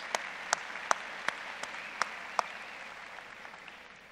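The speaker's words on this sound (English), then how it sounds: "So let's give those folks a round of applause." A college commencement audience claps, heard as a soft, distant wash of applause with a handful of sharper, closer single claps standing out before the sound thins toward the end.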